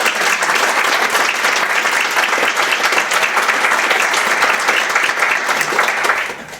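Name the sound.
audience applause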